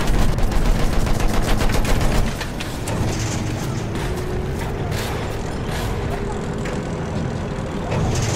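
Rapid machine gun bursts rattle through a Battlefield 1 battle, dense and loud at first, then continuing as steadier gunfire under a noisy war backdrop with aircraft-like rumble.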